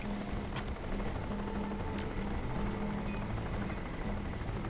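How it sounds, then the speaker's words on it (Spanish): A helicopter in the video game Crysis thrums steadily with a continuous rotor and engine drone, moderately distant and fairly quiet, with faint game ambience and no voices. "Cuidado con el helicóptero de los cojones."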